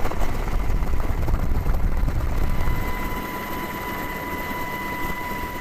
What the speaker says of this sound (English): The U.S. Coast Guard deploys Sikorsky HH-60 helicopters Rescue Hawk and Jayhawk